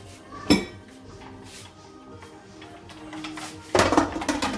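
A lid goes onto a cooking pot of Moroccan couscous vegetables with a sharp metallic clank, followed by a second longer rattle of the metal lid settling, close by.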